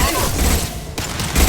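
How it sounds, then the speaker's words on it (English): A single heavy impact-shot round fired in a Mass Effect 2 firefight rings out as a loud blast with a sharp crack near the end, over dense combat noise. "Firing an impact shot"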